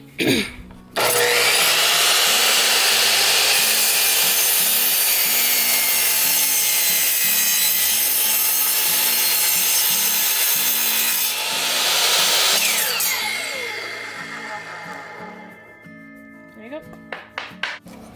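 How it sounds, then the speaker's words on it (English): Power saw set at 0 degrees making a straight cut through three stacked pieces of reclaimed wood, a loud sustained whine and rasp that starts abruptly, holds for about twelve seconds, then winds down. "And now I'm just going to do a straight cut, and I have the saw on 0 degrees now instead of 45 degrees."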